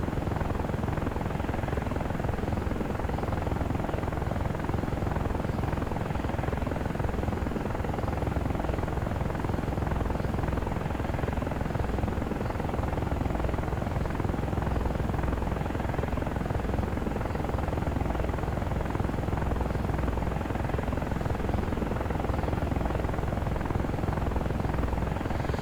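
AH-64 Apache attack helicopter in the DCS World flight simulator, a steady, loud, continuous rotor and turbine drone that holds without a break from start to finish, with no voices over it.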